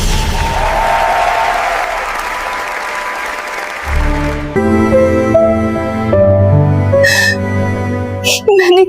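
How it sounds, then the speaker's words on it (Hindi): A royal court crowd breaks into loud, dense applause for about four seconds. Music with a tonal melody then takes over, and a few high chirping accents follow. "पूरा दरबार तालियों से गूंज उठा।"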